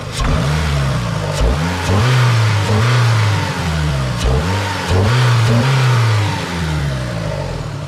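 A tuned Renault Clio 2 1.6 16-valve engine revs up and down repeatedly, rising and falling in pitch with a throaty, close-up roar between brief settles.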